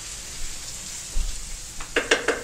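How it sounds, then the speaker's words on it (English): Onions sauté in a pan, browned after several minutes, with a soft low sizzle and a few sharp clinks and crackles near the end. "Our onions have been sauteing for a good 5 minutes. We got the nice and sizzly brown."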